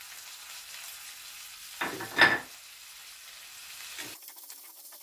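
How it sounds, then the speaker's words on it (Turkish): Peppers and tomato paste sauté in a pan, a faint steady sizzle with a short scrape and clatter of stirring near the middle. "Salçayla da kavuruyoruz. Biberlerimizi de koyuyoruz."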